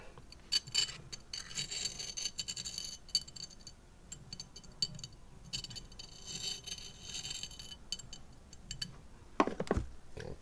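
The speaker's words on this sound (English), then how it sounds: "Scrape the bottom off." A hand tool rasps and scrapes repeatedly across material at close range while working on mini blower cells and lacing, a quiet irregular scratching with short pauses and a sharper knock near the end.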